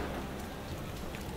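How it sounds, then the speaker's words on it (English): Rain falls steadily in the Parkitect theme-park video game, a constant, loud hiss of downpour with no breaks and no voices. "It's been raining for 200 years."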